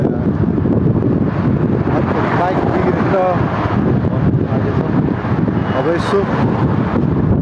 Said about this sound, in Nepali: हावा सरर भनेको खतरा हावा लागिरहेछ